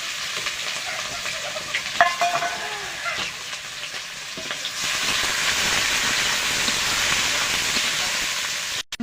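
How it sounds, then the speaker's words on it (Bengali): Onions frying in oil for biryani beresta give off a loud, steady sizzle with stirring scrapes, and the hiss grows denser midway through. "এবারে বেরেস্তা করে নেব পেঁয়াজগুলো ভেজে।"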